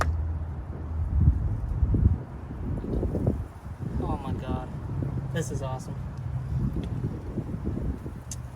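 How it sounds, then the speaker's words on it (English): Steady low rumble of wind buffeting the microphone outdoors, continuous throughout, with excited voices talking over it during disassembly of a Mk1 Rabbit engine with cracked pistons. "The whole freaking tripod's about to blow over because it's getting windy."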